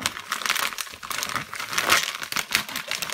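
Scissors snip and crinkle through stiff plastic packaging around a new Nemesis Akuma gaming headset, a close, dense run of crackling cuts and rustles with no talking.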